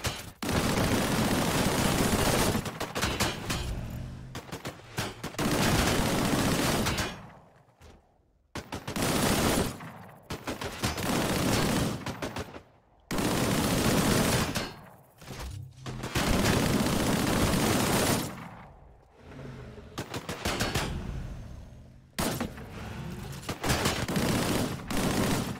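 Rapid weapon fire in the video game Disintegration, loud bursts of shots lasting a few seconds each, broken by short quiet gaps, repeating across the whole stretch.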